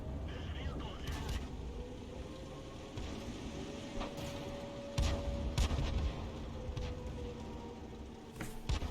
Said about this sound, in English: there's the first shell coming in from the Cromwell